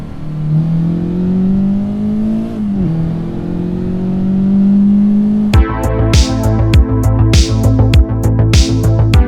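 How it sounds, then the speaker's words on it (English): A Honda Civic Type R FL5 drives at speed while chasing a Toyota GR Corolla, its engine a steady, loud drone with a slowly rising pitch. About halfway through, a loud rhythmic pounding passage cuts in and replaces it. "here we are back in the FL5, chasing down the GR Corolla"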